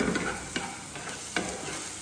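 Chopped onions sautéing in a pan for meatballs, a steady close frying hiss with a couple of sharper clatters as they are stirred or tossed, with no voices.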